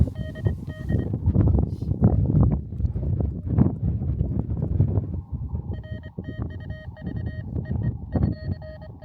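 Strong wind buffets a microphone on a mountain summit in heavy, continuous gusts that roar close and loud. Faint beeping tones sound toward the end.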